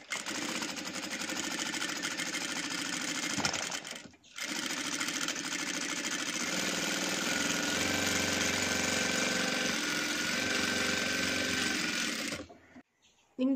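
A Jack F4 power sewing machine stitching fabric at high speed runs as a steady, dense mechanical whir and rapid needle rattle. It stops briefly near the start, then runs on loud and close for several seconds before cutting off.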